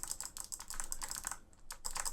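Clicky Lofree Shadow low profile switches on an acrylic leverless controller, pressed in a quick irregular run of sharp close clicks with a brief pause near the end, loud and alone.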